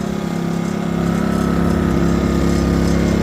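A Powermate 2000i generator that has just had its carburetor changed runs at a loud, steady, close engine drone with an even, buzzing pulse throughout.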